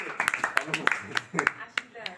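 A few people clap at a one-dish party in Savar, Bangladesh, giving short uneven claps that are moderately close, mixed with steady chatter and talking throughout.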